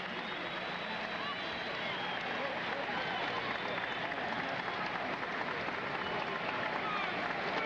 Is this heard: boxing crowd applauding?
yes